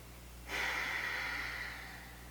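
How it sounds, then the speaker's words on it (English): One deep breath is drawn in close and quiet, a soft airy rush starting abruptly and tapering off over about a second and a half against a faint hum. "start by taking a couple of really deep breaths"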